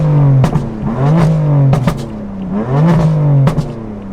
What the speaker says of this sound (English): I constantly downshift and make it pop.